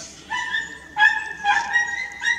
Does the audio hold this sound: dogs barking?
yes